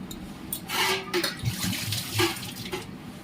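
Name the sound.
water poured into a pressure cooker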